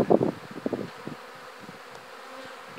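A dense buzzing hum of many honey bees droning together in a hive, with brief louder rustling and knocks near the start.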